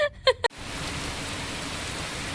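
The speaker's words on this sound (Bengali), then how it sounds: "ভালোই জোরে চলে এসছে বৃষ্টি" Heavy rain pours down outside a house, a steady, loud, even roar that fills the clip after a few brief voices at the very start.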